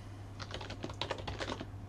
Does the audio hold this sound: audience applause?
no